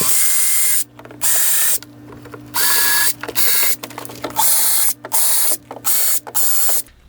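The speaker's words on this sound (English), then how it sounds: "So I'm going to go ahead and drill my 8 pilot holes." A power drill whirs in repeated short bursts, drilling eight pilot holes into a boat deck with a 1/8-inch bit, about eight separate runs with brief pauses between, close by over a steady low hum.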